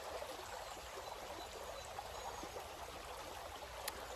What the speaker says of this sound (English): as you listen to the gurgling sound of the water